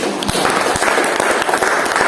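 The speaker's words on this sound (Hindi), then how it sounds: "तो एक बार जोरदार ताली हो जाए।" Crowd at an Atomy business meeting in Bongaigaon, Assam, clapping together in loud, dense applause with individual claps standing out, continuous throughout.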